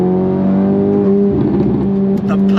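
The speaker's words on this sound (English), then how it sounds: "Love the way the engine just pulls all the way to red line." An Acura Integra Type S DE5 engine with modifications accelerates hard toward redline in second or third gear on a twisty road, a loud steady in-cabin drone climbing in pitch, with brief pops toward the end.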